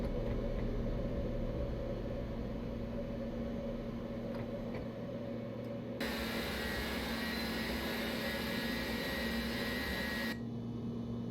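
Boeing MD80 jet engines roaring steadily at high thrust on a takeoff roll in the X-Plane 11 flight simulator, a continuous loud broadband rumble with a brighter hiss joining midway, with no talking.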